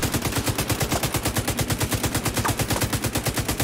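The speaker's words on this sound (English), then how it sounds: "Emptied out my whole clip on that motherfucker." Rapid automatic gunfire from The Division 2 video game rattles loud and close in a continuous, evenly spaced stream of shots throughout, with no talking.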